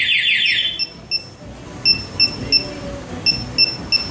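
Short electronic beeps from a two-way motorcycle alarm chirp in spaced pairs and small clusters, fairly loud and sharp, with a brief warbling tone at the start and faint background noise.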